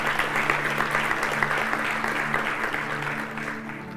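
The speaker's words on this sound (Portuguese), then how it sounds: "Você pode dar um aplauso ao Senhor?" A church congregation applauding during a sermon, many hands clapping in a full, lively burst with a faint steady tone underneath, fading slightly toward the end.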